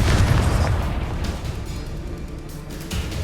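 A Bombarda spell detonates in the video game Hogwarts Legacy, a loud, rumbling blast with booming low-end bursts that roll on through the whole stretch amid game effects.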